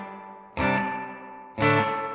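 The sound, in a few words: Subdecay Super Spring Theory reverb pedal, spring mode, guitar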